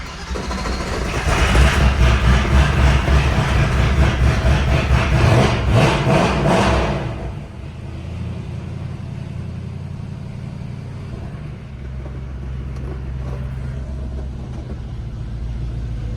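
A car engine revs loud and close for about seven seconds, then settles into a quieter, steady low idle for the rest of the clip.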